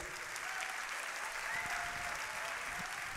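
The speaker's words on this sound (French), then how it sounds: "ils vont quand même vous applaudir" An audience in a hall claps steadily, a dense, even patter of applause from many hands heard throughout the brief stretch.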